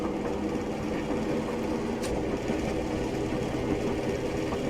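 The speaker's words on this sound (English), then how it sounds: "Okay, engines are kicked in again." A Class 111 diesel multiple unit in Train Simulator Classic, running on the Bournemouth Central to Weymouth route, drones with a steady throbbing engine note that holds even and unbroken throughout.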